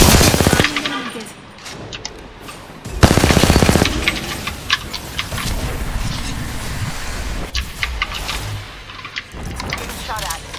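Sustained automatic gunfire from Apex Legends, with dense rapid bursts and sharp individual shots over a continuous game soundscape, loud and near, with a short player voice chiming in between.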